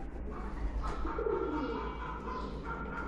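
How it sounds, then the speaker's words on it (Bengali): A chila pigeon cooing close by, a soft, low, rolling coo repeated over a faint background hum. "এই হলো আরেকটি কবুতর, হচ্ছে আপনার চিলা কবুতর"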